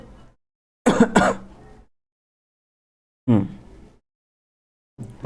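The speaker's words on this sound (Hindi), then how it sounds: "अब तो ज़्यादा खांसी हो रही है क्या?" Three separate coughs or throat clears, the first a heavy double burst, then two shorter ones after pauses, close and fairly loud.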